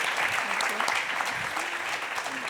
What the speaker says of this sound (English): now a big applause also to Anna,